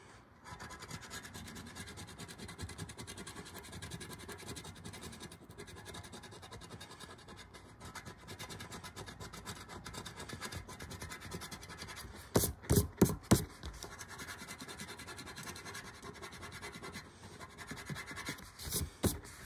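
A coin or fingernail scratches the coating off a Sound of Music scratch-off poster, a steady close scraping rasp with a few louder flurries near the end and no talking.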